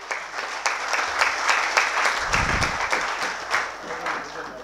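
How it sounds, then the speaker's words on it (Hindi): A school alumni gathering audience claps again in a steady, full round of applause, loud and continuous, with a brief voice breaking through partway. "ताली पीछे से नहीं बजी है, इसलिए दोबारा ताली बजेगी।"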